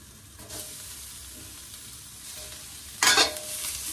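Pork fat frying in a wok, a steady close sizzle that suddenly flares louder and brighter for a moment, then settles back into continuous frying.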